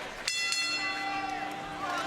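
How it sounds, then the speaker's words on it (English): A boxing ring bell clangs to open a twelve-round professional bout, a few bright metallic strikes ringing out and decaying over steady arena crowd noise and a commentator's voice. "Bell sounds, we are underway."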